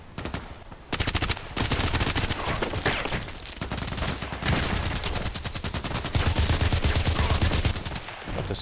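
Rapid bursts of HK416c rifle fire in the online shooter Contract Wars, loud and nearly continuous for several seconds with brief pauses between strings of shots.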